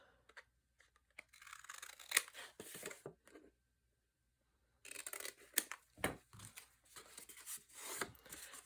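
Scored paper scrap being trimmed for a Christmas tag folio, with quiet close snips and crisp paper rustles in short bursts around a silent pause.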